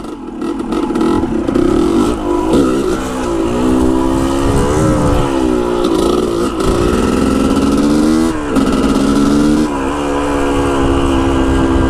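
A dirt bike revving hard after the clutch is popped, a loud close engine roar whose pitch rises and falls through repeated throttle surges without a break.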